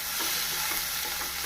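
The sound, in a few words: sautéing chickpea curry base in pan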